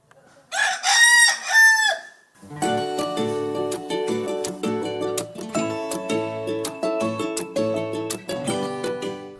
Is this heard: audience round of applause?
no